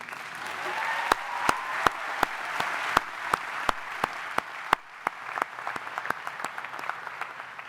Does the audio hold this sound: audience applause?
yes